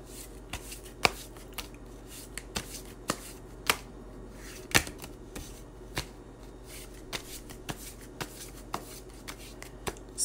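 Tarot cards shuffled during a full moon eclipse reading: a steady riffle with crisp, snapping card slaps at irregular intervals, close and fairly quiet, with no voices.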